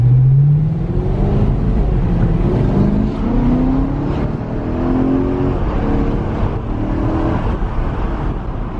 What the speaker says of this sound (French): petite accélération en M3 automatique